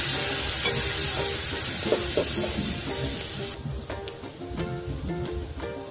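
Masala spice paste with a little water sizzles in a hot pan, a loud dense hiss that drops off sharply partway through, leaving fainter sizzling and clinking underneath.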